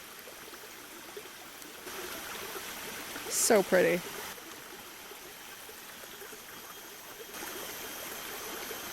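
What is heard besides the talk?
tea-colored stream flowing in Bako National Park, Borneo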